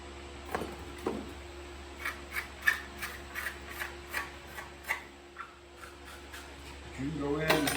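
Homemade sawdust scrapers working over a life-size plaster angel casting, making a regular series of short rasping scrapes about every half second, close and moderately loud over a low hum, with a voice speaking near the end.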